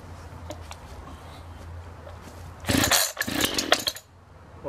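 An Echo CS-501P professional chainsaw starts up cold after a quiet stretch, giving a sudden loud burst of engine revving with a few choppy surges before dropping back down.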